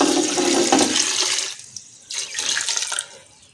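A bowl of water is poured into a pressure-cooker pot of potato and mutton shorba, a brief splashing gush that stops, then a second shorter pour and trickle.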